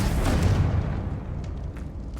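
A Confringo fire spell explodes in Hogwarts Legacy, a loud low rumbling burst that swells at once, then fades over about two seconds into a softer crackling tail.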